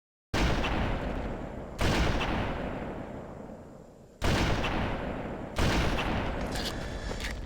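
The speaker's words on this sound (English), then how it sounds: "we get our first look at the sniper rifle" Sniper rifle shots in Halo: Combat Evolved, four loud, sharp reports spaced a second or two apart, each leaving a long echoing decay.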